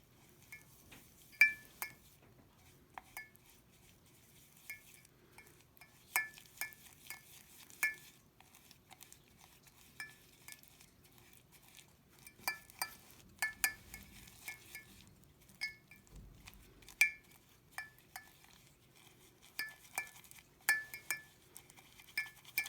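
Glitter being stirred into hair gel in a container: a steady run of light, bright clinks and taps as the utensil knocks the container's sides, close by and moderately quiet, with no talking.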